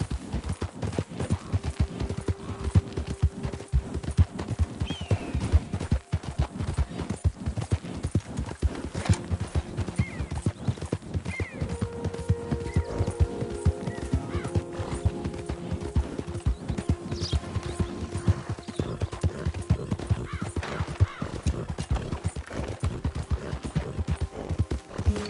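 A horse gallops across open country in Red Dead Redemption 2, rapid rhythmic hoofbeats pounding continuously up close, with occasional tack creaks and brief tonal game sounds layered over the run.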